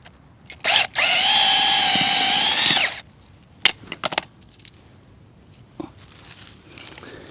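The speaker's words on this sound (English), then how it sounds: "I really like this drill. Makes short work of digging holes." A cordless drill with an auger bit whirs steadily for about two seconds after a short burst, then stops, followed by scattered scraping and crunching of soil while digging holes to plant daffodils.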